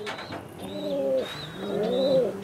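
Giribaz pigeons in a loft give two drawn-out, throaty coos close by, with faint higher chirps from other birds in the background.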